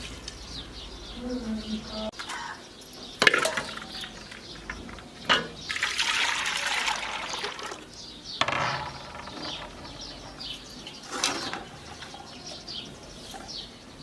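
Soaked wheat liquid poured and trickling through a strainer for homemade kurdai, intermittent splashy bursts of running liquid with clinks of a vessel, close by.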